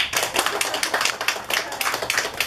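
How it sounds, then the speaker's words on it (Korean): A room of people at a Korean women's association meeting claps to welcome a guest, a steady, dense patter of hands kept up throughout at moderate loudness, with no voices over it. "환영의 박수"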